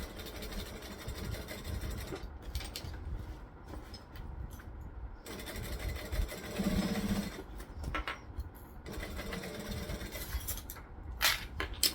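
A sewing machine topstitches a Modified Taylor bag at an eighth of an inch, a low, continuous mechanical whir with steady stitching texture and a few brief lulls.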